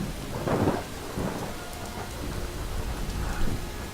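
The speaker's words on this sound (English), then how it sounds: "the rain is like really loud" Steady rain pours in Skyrim Special Edition, with low rumbles of thunder rolling through at intervals, loud and close, and no talking.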